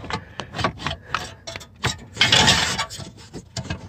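A car amplifier being worked out of a Mazdaspeed3 scrapes and knocks against plastic trim pieces in a series of short, close rubbing and clattering bursts, with a louder grinding scrape in the middle.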